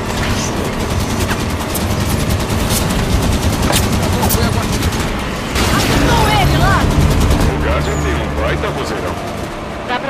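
Sustained gunfire and explosions in a Halo game battle, with dense automatic bursts and booms filling the whole stretch, while voices shout over the chaos.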